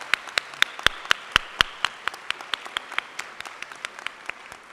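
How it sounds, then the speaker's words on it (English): A small audience at a veterinary college event claps for several seconds, sharp separate claps in an uneven rhythm that grow sparse and quieter toward the end. "While we give you a round of applause."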